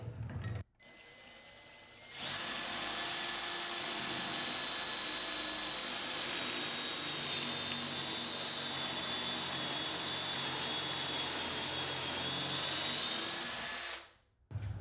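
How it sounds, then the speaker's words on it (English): A power drill whirs steadily at close range for about twelve seconds, starting and stopping cleanly, boring an angled pocket hole into wood through a Kreg Jig 310, with no speech. "I drilled until my stop collar reached the end of the pocket hole jig"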